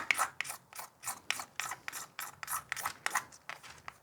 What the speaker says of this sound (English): Quite easy to do, just scrape them with your knife